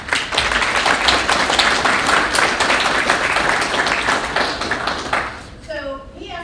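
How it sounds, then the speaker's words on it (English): A dense round of applause from the audience at a school board meeting, many hands clapping steadily for about five seconds before tapering off, followed by a voice starting to speak. "just one more round of applause"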